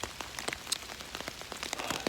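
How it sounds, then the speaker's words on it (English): Rain patters steadily on a wooded hiking trail in the Pinhoti backcountry, soft irregular drops tapping nearby surfaces at low volume with no voices. "Still raining."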